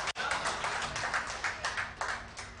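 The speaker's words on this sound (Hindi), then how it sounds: "थोड़ी बहुत तालियां बजाकर आप भी मेरा स्वागत कर दीजिए" Light, scattered clapping from an audience welcoming a poet at a poetry recitation, a modest patter of hands that stays fairly faint and pulses unevenly.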